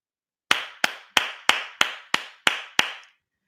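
Eight sharp single hand claps in a slow, steady rhythm, spaced about a third of a second apart, close and loud with short ringing decay after each, imitating Jason Garrett's sideline clap.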